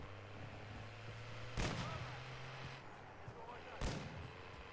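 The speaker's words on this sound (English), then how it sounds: "That sniper, I think, took a pot shot at us." Two sharp, loud sniper rifle shots about two seconds apart in Call of Duty MW3 Zombies, each a broadband crack with a short tail, over steady game ambience and a low engine-like hum.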